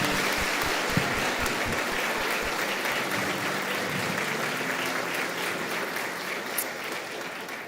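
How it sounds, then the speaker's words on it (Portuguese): A church congregation breaks into steady, sustained applause during a service, a dense wash of clapping from many hands with a few low thumps near the start. "Você pode dar uma salva de palmas a Jesus por isso?"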